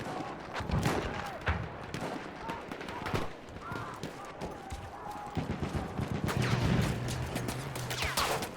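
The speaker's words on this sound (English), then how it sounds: "we got a machine gunner rolling our way" Machine gun fire in the World War I shooter game Battlefield 1, bursts of shots and explosions crackling irregularly at moderate volume, with people talking over the gunfire.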